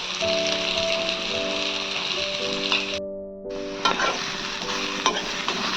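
Elephant foot yam (suran) pieces frying in oil in a pan, a steady close sizzle with light crackling, a short break midway, then bubbling and a few stirring knocks.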